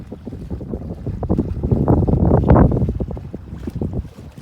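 Sailboat under way across a harbor in steady wind, with broadband wind and water rush buffeting the microphone, swelling louder near the middle and easing off, no voices.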